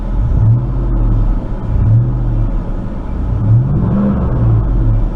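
A Chevrolet truck with a low-power fault runs its engine, giving a close, loud, steady low rumble with a slight rise and fall in pitch and no talking.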